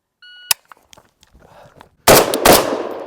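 A 5.56 AK-pattern rifle with a factory gas system fires one sharp, isolated shot, then after a quiet gap two loud shots in quick succession, each leaving a ringing, echoing tail outdoors.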